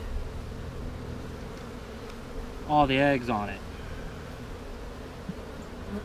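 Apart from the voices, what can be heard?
honeybees buzzing at an open hive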